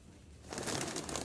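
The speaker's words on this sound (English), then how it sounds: "pigeons. Oh, pigeon poop." Pigeons in the game Bum Simulator coo and flutter, a soft burst of bird sound rising suddenly after a quiet moment and continuing at moderate loudness.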